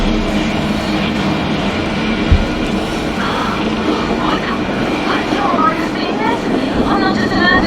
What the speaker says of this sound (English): Train that's running.